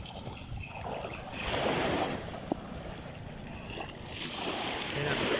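Calm sea waves washing onto a beach, a broad steady wash with gentle swells rising and easing, heard alone with a light wind rush and a brief click partway through.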